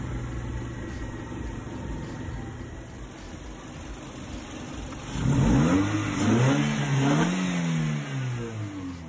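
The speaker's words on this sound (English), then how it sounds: "Next, we put oil in the engine, warm it up, and get it ready to take it for testing." A Toyota AE86 fitted with a 3S-GE engine and a billet oil pan idles steadily while warming up, then revs up and down several times midway through the clip.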